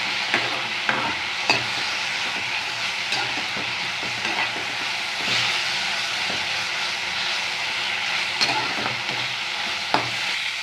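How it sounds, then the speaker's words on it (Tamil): Mudakathan keerai greens sautéing in a pan over a low flame give a steady, even sizzle, with frequent light clicks and scrapes of stirring throughout and no talking. "அடுப்பை சிம்மிலே வச்சு நம்ம வதக்கி விட்டுருவோம்"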